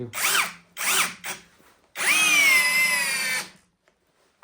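Brushless cordless Eltos DA-16 BL drill driving a 90 mm screw: two short whirring bursts, then a longer sustained high-pitched run that rises and holds before stopping, close and loud.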